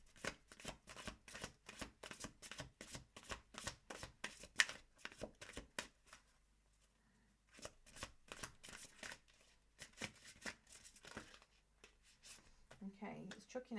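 Witch's Kitchen Oracle cards are shuffled by hand at close range, a rapid run of soft riffling flicks, then a pause and more scattered card handling, quiet and crisp.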